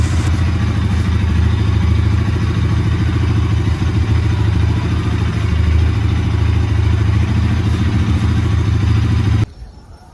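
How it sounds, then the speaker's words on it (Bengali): A Bajaj Pulsar NS200 motorcycle engine runs loud and close after a cold start, with a steady, throbbing idle that cuts off abruptly near the end. "তো এখন গাড়িটিকে কোল্ড স্টার্টের জন্য চালানো হয়েছে।"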